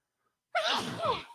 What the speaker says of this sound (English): yeah, but Mama sneeze a lot.